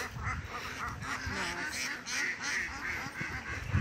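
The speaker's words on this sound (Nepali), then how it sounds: "हेर्नुहोस् हाँस" Ducks on a village farm quack continuously in an overlapping, nearby chorus of raspy calls, steady and fairly loud throughout.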